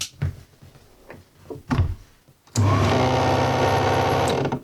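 An 8mm film projector starts up after a few quiet thumps and handling sounds, then runs with a steady loud whirring and mechanical gear noise that holds until the end.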